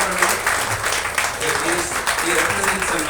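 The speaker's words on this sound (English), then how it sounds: "Give him a big round of applause." Applause from an audience at a press conference, a dense wash of clapping held steady for a few seconds with voices mixed in beneath it.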